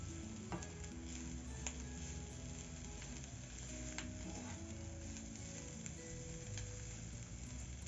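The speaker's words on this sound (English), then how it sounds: "the minced meat, you are supposed to prepare it in a low heat for it not to be able to burn" Minced meat with onions and garlic cooking over low heat for meat pie filling, a constant soft sizzle with occasional stirring and scraping in the pan, close but quiet.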